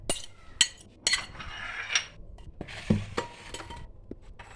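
A utensil stirs and clinks garlic and sauce in a bowl, with a few sharp taps and scrapes at irregular intervals and brief rustling in between, close and with no talk.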